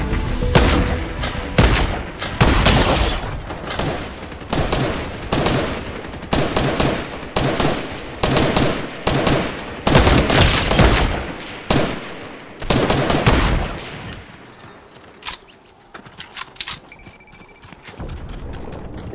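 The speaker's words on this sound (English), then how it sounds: "we're still getting shot at" Rapid, loud gunfire in a Fortnite zero-build duos match: close volleys of shots crackle in dense, rhythmic bursts for a long stretch, then thin out into scattered single shots near the end.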